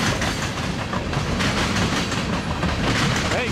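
A freight train of the Iowa Northern with NS locomotives rolls past by the Cedar River, a steady loud rumble and clatter of wagons continuing throughout.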